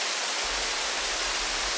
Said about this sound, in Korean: 이렇게 떨어진다라고 해서 원앙 폭포예요.